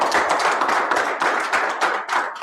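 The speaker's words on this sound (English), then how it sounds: "You can clap if you like" An audience at a live talk in a cannabis dispensary claps steadily for a couple of seconds, a dense, close round of many hands with no voices over it.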